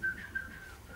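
A person whistles a short, faint, steady tone that slides slightly, lasting under a second in a quiet room.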